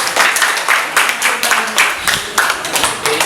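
Students and audience in a class debate program clap together, a lively burst of rhythmic applause with distinct sharp claps throughout, fairly close and loud, with no talking over it.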